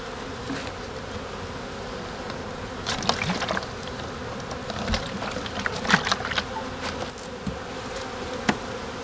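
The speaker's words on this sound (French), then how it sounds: "il y a beaucoup d'abeilles autour qui viennent" A steady, dense buzz of many honeybees around open hives, with a constant hum and occasional louder passes close by.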